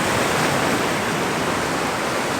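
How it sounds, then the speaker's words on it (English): Ocean waves break on the shore just after sunrise in a steady, dense wash of surf noise, loud and unbroken, with no speech. "I'm looking for the waves that are breaking a little bit further out"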